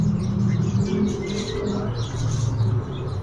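Asian pied starling (jalak suren) singing at a bird shop, its calls mixed among other birds' chirps and a low background hum, steady and moderately loud throughout.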